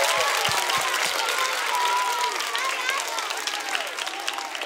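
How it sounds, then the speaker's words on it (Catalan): A theatre audience claps and cheers steadily at a children's cantata performance, the applause loud at first and tapering slightly, with a few low thumps early on. "un aplaudiment més fort de tots"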